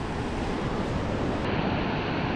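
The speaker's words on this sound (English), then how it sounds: "I'll need these waves to go out a bit further before trying." Ocean surf rolling onto a beach at a fishing spot during a cold snap, a loud, continuous rushing wash of breaking waves with wind, close and unbroken.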